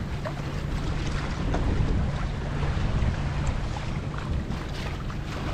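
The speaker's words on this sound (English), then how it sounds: "We are doing about 5 knots right now with the mainsail" A 28-foot Pearson Triton sails under mainsail at about five knots, with a steady rush of wind and water past the hull, broad and unbroken, and no voices.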